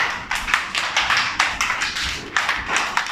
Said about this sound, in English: Clap for Mariam.